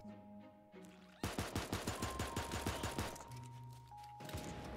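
Rapid automatic gunfire in the Super Animal Royale video game, loud, regular bursts of shots firing one after another in quick succession for several seconds after a short quieter lead-in.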